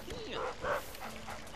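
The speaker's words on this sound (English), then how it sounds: "Hello, doggy." A dog in Luigi's Mansion gives a couple of quick, yipping barks, faint and brief, under a person talking.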